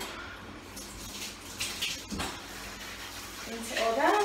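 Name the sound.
water rinsing down a bathroom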